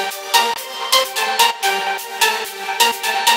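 Bright stacked synth leads made with 3OSC play a choppy, rhythmic melody, loud and dense, with pulsing chords and a noisy shimmer on top.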